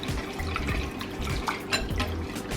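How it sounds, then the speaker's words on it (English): Water pours into a bowl to mix powdered egg replacer for jackfruit nuggets, a close, steady trickle and splash with light clinks of a container in a kitchen. "And I am adding my water"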